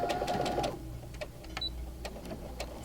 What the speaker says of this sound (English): Start off with a tack down stitch. You're going to back stitch.